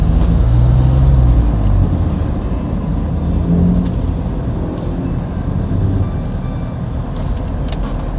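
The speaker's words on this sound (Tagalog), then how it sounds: "Pag-apakan mo talagang bibirit siya. Malakas ang torque niya." A 2025 Mitsubishi Montero Sport accelerates on the road, its engine note building and rumbling loudly from inside the cabin, with road and traffic noise mixed in and no talking.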